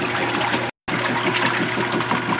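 A repaired Whirlpool washing machine running its wash cycle, with a steady churning of water and a low motor hum that continues throughout and drops out only once, briefly.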